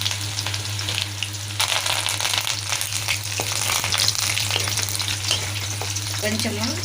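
Green chilies and a pinch of asafoetida sizzle in hot oil for a tempering, alongside cumin, for a leafy amaranth and boondi yogurt rasam. The frying hiss is steady and close, with occasional stirring clinks over a low hum.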